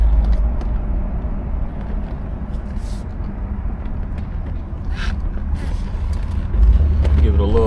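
A 1966 Cadillac DeVille convertible cruising with the top down, a steady engine and road rumble under throttle that swells slightly near the end, with creaks and a voice talking over it.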